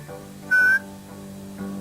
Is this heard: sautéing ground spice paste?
no